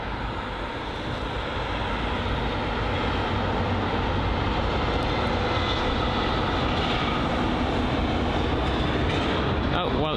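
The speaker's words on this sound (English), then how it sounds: "It's the Lufthansa A320-200." Lufthansa Airbus A320-200 taxiing at London Heathrow, a loud steady jet engine roar with broadband rumble that holds without a break throughout.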